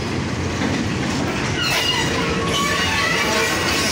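A WDM-3 diesel locomotive rolls slowly out of the Saidpur Railway Factory over rough track, giving a steady loud rumble with faint wheel-on-rail clatter and some higher squeals partway through.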